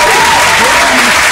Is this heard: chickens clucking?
no